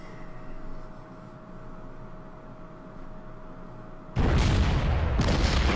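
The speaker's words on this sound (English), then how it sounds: "Rocket launched." A rocket launch and explosion in the Order of Battle wargame, Burma Road campaign by the Irrawaddy River, with a steady low rumble that gives way to a sudden loud, sustained roaring blast.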